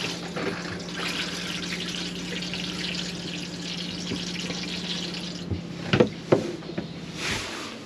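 Water from a motorhome shower head runs steadily into the wash basin, a constant close hiss and splash with a few louder knocks and clatters near the end.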